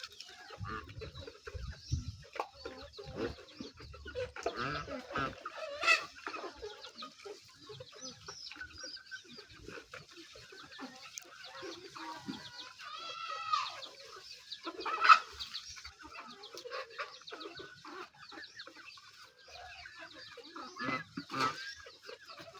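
On a small farm also keeping pigs, chickens cluck and call intermittently, mostly faint with a few louder nearby calls, scattered over quiet farmyard background for a long stretch.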